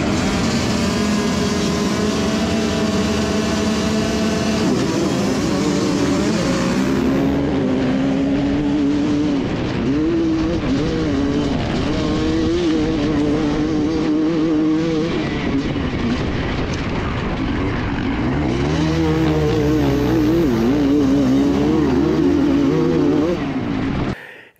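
A 1993 125cc motocross motorcycle launching from the starting grid at a race, loud two-stroke engines revving hard and climbing in pitch as bikes pull away, with several machines sounding together and voices underneath.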